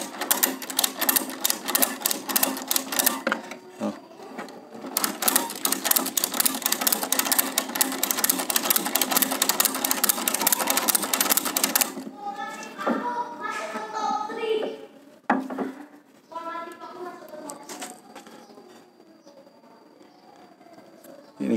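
Ratchet tie-down strap being cranked and wound, a close, rapid rattling clatter in long bursts, followed by someone speaking Indonesian over softer handling noise.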